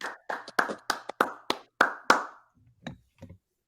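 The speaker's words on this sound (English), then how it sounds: "We'll clap it up." Hosts clapping by hand, about nine sharp, separate claps in an uneven quick run, close and loud, followed by a couple of fainter taps.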